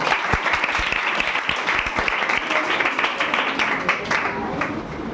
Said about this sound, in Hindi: ताली बजाओ दोबारा।